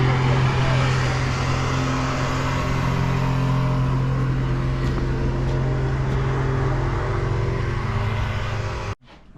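A loud pump truck runs steadily while pumping out an old oil tank at a 191-year-old home, a dense, unbroken engine and suction roar that holds for several seconds before cutting off abruptly near the end.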